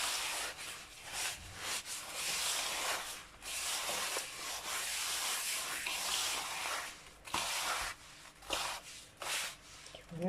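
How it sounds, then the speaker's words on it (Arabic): Hands rubbing semolina together with melted butter and oil for traditional fried mbesses, a continuous soft gritty rubbing and hissing that swells and dips steadily with short pauses. "نبسو مليح السميد مع الزبده الدايبه والزيت"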